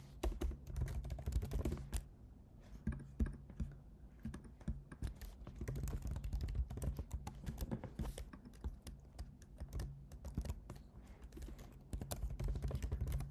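Fingers type on a computer keyboard while someone codes a custom Shopify storefront, a continuous run of close, quick key clicks and clatters with brief pauses and no speech.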